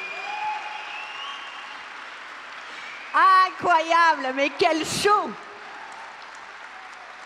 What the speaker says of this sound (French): Merci d'applaudir très très fort Christophe Sapé et ses équipes